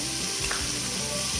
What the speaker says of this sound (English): to build our roux, 3 tablespoons of butter